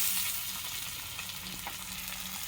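Salt, turmeric and chili powder spices fry in a pan with a steady, close sizzle while being stirred, with faint scraping touches throughout.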